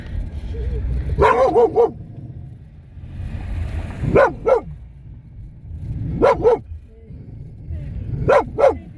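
A dog barks in short bursts of two or three, repeated several times at steady intervals, fairly close over a low background rumble.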